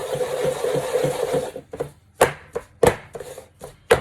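A cake tin holding sponge cake mix is banged on a kitchen counter to level it. First comes a stretch of busy, rattly movement, then several sharp, separate knocks at uneven intervals, loud and close.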